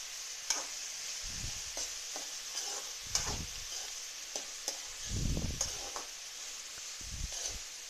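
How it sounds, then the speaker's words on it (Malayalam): Chopped elephant foot yam stem stirred in a hot pan for thoran, with soft sizzling under repeated scraping and stirring strokes in an irregular rhythm, close and moderately quiet. "ഇതിലേക്ക് നമുക്ക് ഈ ചേനപ്പിണ്ടി അരിഞ്ഞത് ചേർത്ത് കൊടുക്കാം"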